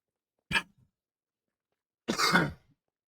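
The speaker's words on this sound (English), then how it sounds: "Wow, coughing a bit." Two coughs separated by a pause, a short sharp one followed by a longer, rougher one, close and otherwise silent.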